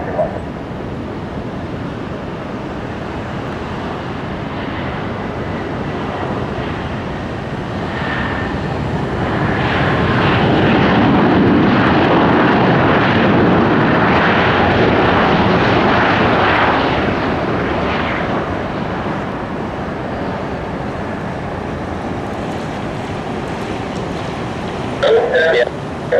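A Southwest airliner landing on runway 19 right at Tampa, its jet engine roar swelling loudly as it passes close by and then easing back to a steady rumble.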